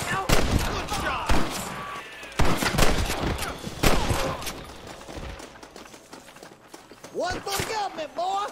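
In a Red Dead Redemption shootout, gunshots crack loudly again and again in quick volleys. Shouting voices in the game come between the bursts, and a ricochet-like whine follows some of the shots.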